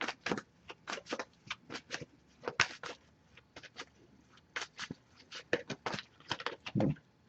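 An oracle card deck is shuffled by hand: quiet, quick bursts of papery riffling and soft taps repeat irregularly, close and faint.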